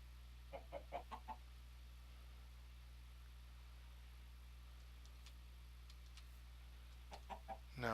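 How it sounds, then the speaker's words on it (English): A Minecraft chicken clucks in two short bursts of quick, faint clucks, one near the start and another near the end, with quiet stretches between. "No, it's a chicken."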